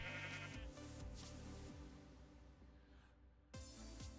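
Sheep bleating in the block-building video game Minecraft (Java 1.12.2), heard as a few short bleats over continuous game background sound and music.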